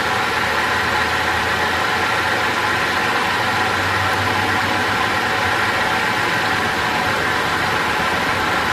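A Holden VZ Alloytec engine idles roughly with a misfire, a loud, steady, close-up rumble with an uneven low throb that runs throughout, and no voices.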